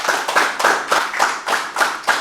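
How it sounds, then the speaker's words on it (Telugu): A meditation-session audience claps in unison, loud, evenly spaced beats roughly three per second, a steady rhythmic round of hands with no voices. "ఇలాంటి అద్భుతమైన కథల్ని చెప్పే నాకు కూడా ఒకసారి గట్టి క్లాప్ చేద్దాం"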